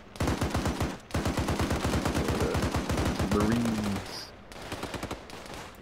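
ARMA 3 gunfire: rapid, evenly spaced automatic bursts ring out loud and close, pausing briefly and then resuming, while players talk over the shooting.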